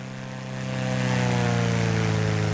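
Propeller aircraft drone in the survival video game DayZ, a steady low engine hum that swells louder as the plane passes overhead, continuous with no voices.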